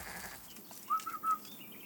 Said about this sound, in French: Ah, monsieur Desbiens, ils sont par là, nos moutons?